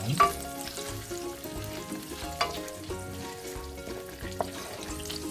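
Butter sizzles with three or four sage leaves in a pan, a steady crackling fry with occasional sharper spits and a faint utensil clink, fairly close and unaccompanied by voices.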